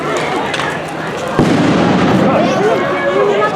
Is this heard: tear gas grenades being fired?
yes